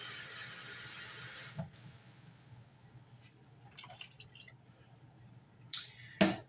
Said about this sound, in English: I'm going to add about a half a can of water.